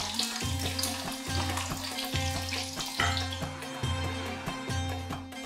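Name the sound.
chopped garlic sautéing in hot oil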